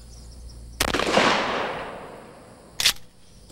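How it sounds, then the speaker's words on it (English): A shotgun fired with number 9 birdshot at soft body armor on a mannequin, heard as a sharp, loud report with a lingering decay and then a second short, sharp crack a couple of seconds later. "We try it first with number 9 birdshot."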